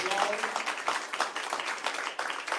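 An audience applauds a newly introduced school district leader, giving a short burst of lively, fairly close clapping with some voices faintly mixed in at the start.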